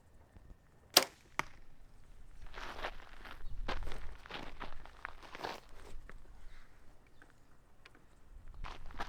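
An arrow is loosed from a bow at a short-range practice target, one sharp snap followed by a quieter thud, with soft footsteps and rustling afterward and no talk.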